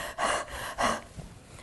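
A voice imitates the rapid, deep breathing of diabetic ketoacidosis: two strong, hoarse breaths in quick succession, close and fairly faint, followed by a softer trailing exhale.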